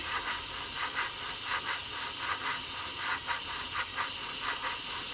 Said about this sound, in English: we're going to lay down a white primer for this one